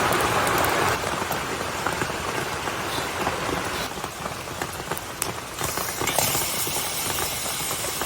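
Heavy rain falling hard, a dense steady patter on nearby surfaces with occasional louder drops and splashes standing out, continuous for the whole stretch.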